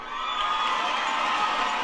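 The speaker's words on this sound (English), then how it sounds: "Crowd cheer." A soundboard crowd cheer effect plays, a short burst of many voices cheering and whooping together, steady and loud for under two seconds.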